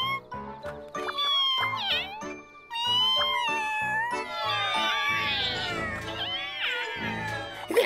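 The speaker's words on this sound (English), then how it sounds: "Oh, no, an evil cat." A cartoon cat meows over and over in an animated children's series, with loud, drawn-out, wavering cries and yowls that follow each other closely, some overlapping with background music.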